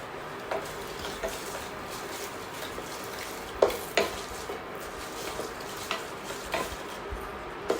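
Turmeric and a pinch of asafoetida tempering in hot oil with curry leaves for a puffed-rice chevdo, giving a steady, even sizzle broken by occasional soft stirring clinks, with no talking.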